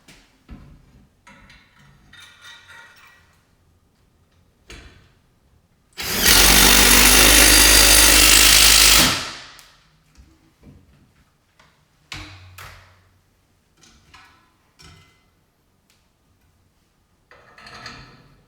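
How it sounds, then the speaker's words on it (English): A power driver with a 10mm socket runs lag bolts into wall studs for a flatscreen mount, one loud sustained whirring burst of about three seconds amid quiet clicks and handling noises. "I'll be using this driver with the 10mm socket to get these started."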